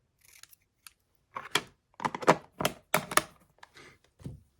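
Scissors snip letters out of glossy magazine paper in a quick close burst of crisp cuts, with a few isolated snips before and after and no talking.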